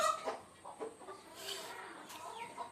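Native backyard hens clucking inside a cage, with several soft, scattered clucks and calls at close range and no talking.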